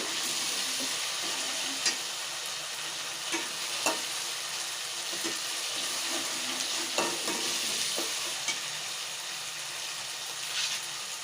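Garlic, ginger and onion frying in a pan for fish curry, a continuous gentle sizzle punctuated by faint scrapes of stirring, no voices.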